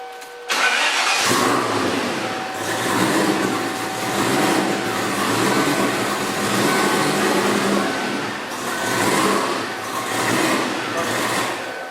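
A 1993 Ford Mustang Fox-body engine starts up and keeps running steadily, its low rumble rising and falling slightly, with people talking nearby over it.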